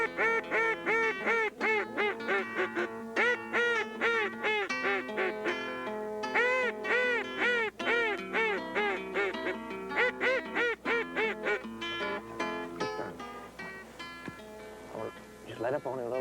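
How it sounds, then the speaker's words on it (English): A hand-blown duck call gives a high ball call, a long run of loud, repeated quacking notes in a steady cadence that fills the whole stretch, with a wavering, descending quality. "I'm gonna try to give him a high ball."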